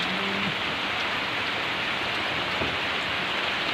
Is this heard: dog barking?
no